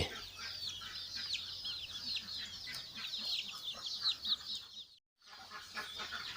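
Chicks and hens in a nursery pen for young chickens, clucking and peeping continuously in a busy high chorus close by. It drops out briefly for a moment before resuming.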